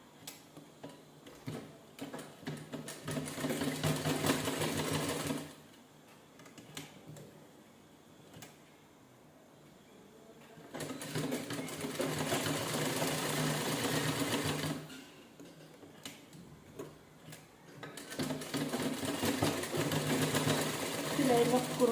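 A sewing machine runs in three long bursts of rapid, even stitching along a folded blouse hook strip, separated by quieter pauses with soft handling sounds.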